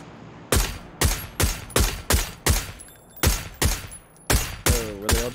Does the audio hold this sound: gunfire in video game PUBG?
yes